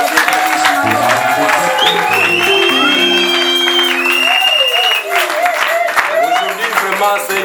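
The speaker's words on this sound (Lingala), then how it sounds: "Acclamons très fort pour la gloire de notre Dieu." A church congregation applauds loudly and steadily throughout, with crowd cheers and whoops rising over the clapping and sustained musical tones running beneath.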